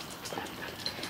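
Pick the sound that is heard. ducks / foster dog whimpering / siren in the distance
foster dog whimpering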